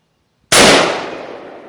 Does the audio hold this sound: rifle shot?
yes